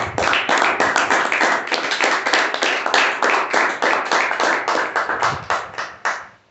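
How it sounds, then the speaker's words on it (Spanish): Loud, brisk clapping from a church congregation, many hands beating in a fast, even rhythm close by, sustained for several seconds before cutting off abruptly. "Denle un aplauso muy fuerte"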